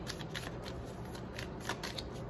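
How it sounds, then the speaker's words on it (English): Tarot cards being shuffled by hand, a steady papery riffling and sliding texture at close range running continuously, with no voices. "Let me shuffle these cards here"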